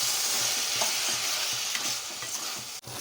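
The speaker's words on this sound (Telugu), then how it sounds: "టమాటాలు కట్ చేసి పెట్టుకున్నాం కదా, అవన్నీ తాలింపులో వేసుకొని వేపుకొని" Chopped tomatoes sizzle in hot tempering oil while a spoon stirs them, a steady close frying hiss with soft scraping strokes and one brief gap near the end, no voices.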